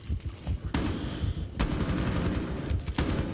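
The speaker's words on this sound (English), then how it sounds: "SMG-11 is a monstrous gun in this guy's hands." SMG-11 submachine gun fire in a Rainbow Six Siege esports match, rapid bursts of loud automatic shots close by, with a dense burst near the start, a longer sustained spray in the middle and another at the end, over constant game noise.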